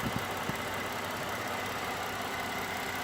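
A 2010 Ford Fusion Sport engine runs at idle after a water pump replacement. A steady, even hum with a faint rattle plays alone.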